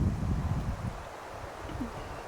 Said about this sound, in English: it's windy today, so the wind's not helping the fires out any